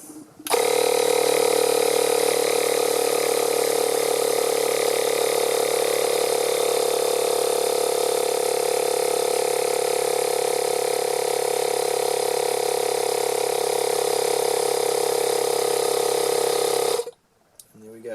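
A Makita cordless tyre inflator runs with a steady, loud mechanical drone for about seventeen seconds, then abruptly cuts out.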